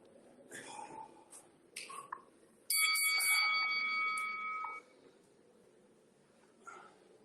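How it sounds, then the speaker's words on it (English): A ten-second interval bell from a Tabata workout rings out as a bright, sustained electronic tone for about two seconds, fairly loud against quiet room sound with faint talk before it. "10-second bell."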